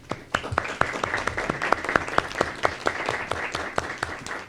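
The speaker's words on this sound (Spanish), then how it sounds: "Un gran aplauso, por favor." Audience applause at the close of an academic panel on constitutional law and tax justice: a dense, sustained round of clapping with sharp individual claps standing out, steady and fairly close for the whole stretch.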